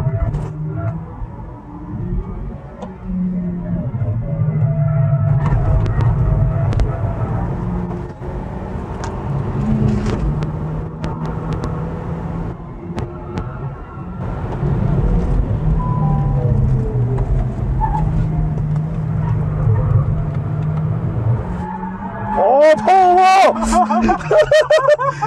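A Hyundai Genesis Coupe 2.0 laps the Inje Speedium race track, heard from inside as a loud, steady engine drone that rises and falls through gear changes and braking, with a voice talking over it.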